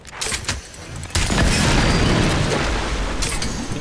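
A boogie bomb bursts in a Fortnite match: a loud boom after a few short pops, then a sustained rumbling roar that fades and ends in a final crackling burst.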